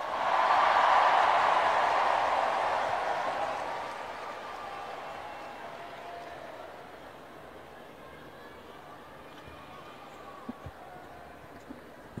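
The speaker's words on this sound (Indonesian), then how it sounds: "tepuk tangan untuk Menteri Keuangan yang paling keras" An audience at a national Teachers' Day gathering gives loud applause for the Finance Minister; the clapping swells briefly, then fades away over a few seconds into a quiet hall with a few faint knocks.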